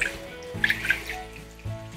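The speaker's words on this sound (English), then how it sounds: "pour this right directly inside the machine with the flavor." Ice and water mix being poured into a machine, splashing and trickling in an irregular, moderately loud stream.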